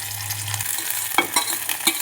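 Onions hit hot oil in a kadai while Maggi noodles are being made, giving a close, steady sizzle. A few soft scraping stirs follow, and no one speaks.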